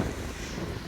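Wind buffets the microphone while cycling through rain, a steady low rumble holding for about a second with no voices.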